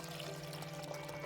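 Water pours into a fish tank in a soft, steady, faint trickle lasting only a moment.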